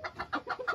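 A young rooster gives a short run of rapid, rhythmic clucks, five quick pulses, close and moderately loud.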